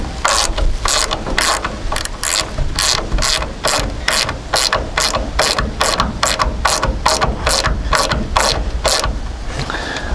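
Close, rapid ratchet clicks in a steady rhythm as a bolt with a washer is tightened, about twenty quick strokes, no talking.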